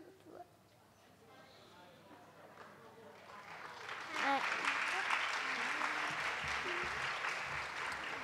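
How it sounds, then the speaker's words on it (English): Audience applause at an Islamic centre jalsa gathering, starting faint and swelling at about four seconds into a full, steady round of clapping from a crowd. "Please, can we do better than that? A round of applause, please, for them."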